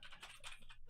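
Keys clatter on a computer keyboard in a quick, uneven run of soft taps, close and quiet, with no talking.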